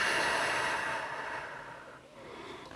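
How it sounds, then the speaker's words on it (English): One deep breath taken during a beginner yoga session for arms and shoulders, a soft, airy exhale that fades gradually into near silence, close and quiet. "Take 1 more deep breath here."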